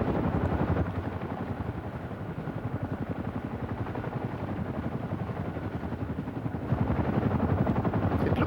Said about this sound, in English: What it actually is a Boeing Chinook HC-1